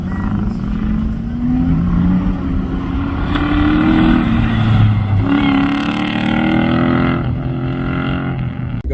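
A QA1 Camaro on an autocross run, its engine revving hard and steadily, loud and close, pitch climbing and dropping through gear changes over the whole stretch.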